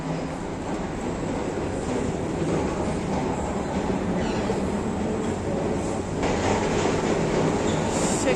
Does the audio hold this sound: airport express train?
yes